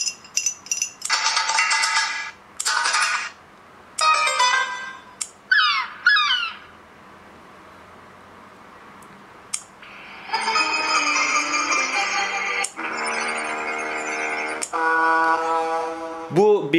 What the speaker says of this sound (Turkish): Bu bildirim sesleri genellikle mesaj geldiğinde, e-posta geldiğinde kullanabileceğiniz sesler.